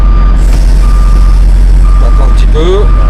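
Truck reversing with an air brake release, steady engine rumble under a continuous reversing beep tone, a brief hiss near the end alongside faint talk.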